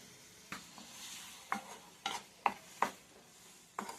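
Tomatoes softening in a couple of spoons of oil with a pinch of salt for chutney, a low steady sizzle with several sharp spoon-stirring clinks against the pan, close and fairly quiet.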